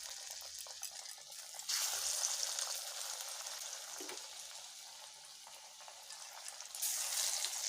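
Potato pakora (taruaa) batter frying in hot oil in a kadhai, a faint, continuous sizzle and hiss that swells in two louder bursts, with no voices.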